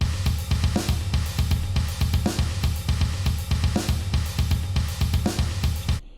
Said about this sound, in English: the kick and the snare pattern, that is like the foundation of it, and the China rhythm that's going on top